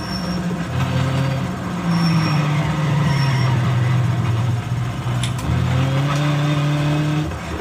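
A Nissan 240SX engine with Tribes exhaust in a racing game at Deals Gap drones and revs steadily, its pitch rising and dipping through gear changes, with a brief break midway before climbing again.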